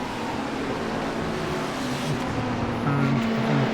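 A Ferrari race car engine in iRacing drones steadily at a sustained, moderately loud level, with the pitch rising and shifting slightly toward the end as the car pulls along.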